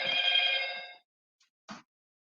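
A phone rings loudly in a short, steady burst of bell tone, then goes quiet. A brief, fainter blip follows a moment later. The phone has no SIM card. No one speaks.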